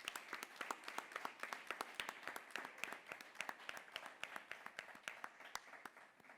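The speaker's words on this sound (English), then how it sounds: "So if we could just do a round of applause for our panel." A small audience applauds a panel after an energy security discussion: sparse, distinct hand claps in a quick irregular rhythm, fairly quiet and lasting several seconds.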